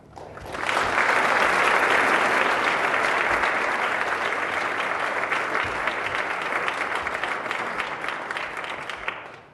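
An audience applauds in welcome of Reed Hastings and Amanda Lang, a loud, sustained wash of clapping from a large crowd that swells in quickly and holds for several seconds before fading.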